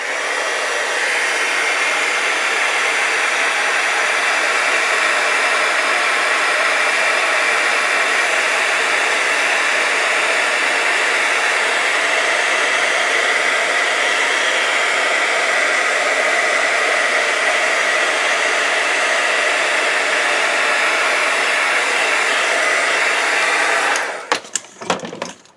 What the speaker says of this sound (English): I'm going to hit it with a heat gun.